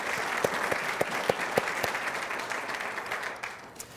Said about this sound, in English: let's give Tom a round of applause on that wonderful program